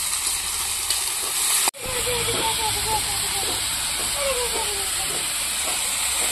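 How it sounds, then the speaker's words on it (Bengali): Cauliflower fries in a pan with a steady, bright sizzling hiss, briefly cut by a sharp click, then continuing with soft bubbling under faint background voices. "ফুলকপিটা ভাজার সময় একটু লবণ আর একটু চিনি দিয়ে নেব"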